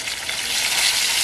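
Beef fillet for Beef Wellington searing in hot oil in a pan, giving a loud, steady, broadband sizzle that holds without a break and with no voice over it.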